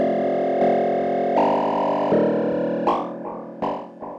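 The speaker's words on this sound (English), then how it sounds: "if we do the same thing with the triangle LFO, we'll get accelerating and decelerating pulses." A Moog Matriarch synthesizer plays buzzy, distorted tones driven by a triangle LFO, so the pulses speed up and slow down in an uneven rhythm and fade at the end.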